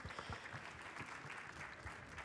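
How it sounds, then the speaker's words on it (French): Audience clapping at a bread trade event, rather faint and distant, with a few louder individual claps standing out over a brief, continuous patter. "on va applaudir déjà et nos boulangers et nos intervenants"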